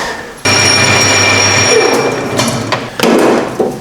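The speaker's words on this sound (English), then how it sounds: "I'm just going to drill the gas cap out to take a rollover valve" A 7mm drill boring through a minibike gas cap to fit a rollover valve, a loud whining drill run that stops and restarts, close up, with a few knocks near the end.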